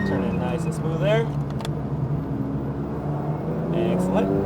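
A Porsche GT3 engine pulls hard and steadily on the Milwaukee Mile race track, its drone loud and close throughout, while an instructor talks over it.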